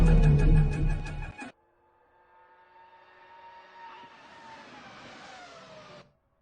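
Simulated 2000 McLaren F1 V10 engine lapping Imola in Assetto Corsa: a brief loud roar cuts off, then a fainter engine sound climbs steadily in pitch as the car accelerates.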